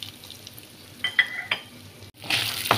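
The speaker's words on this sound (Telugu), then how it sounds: "ఇవన్నీ వేసుకున్నామండి ఆయిల్లో. పల్లీలు వేగేంత వరకు వేసుకున్నామండి." Chana dal, urad dal, coriander seeds, cumin and peanuts fry in a tablespoon of oil, giving a quiet crackle and a few spoon clinks, then a louder burst of sizzling near the end.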